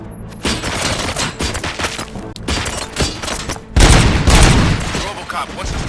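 Rapid bursts of gunfire in the Robocop: Rogue City video game, loud and close, with dense overlapping shots and heavy thuds building toward a bigger volley near the end.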